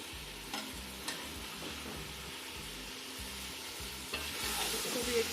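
Chicken fries for biryani with ginger-garlic paste and green chillies stirred in, giving a continuous, dense sizzle over rhythmic low stirring thumps that grows louder toward the end.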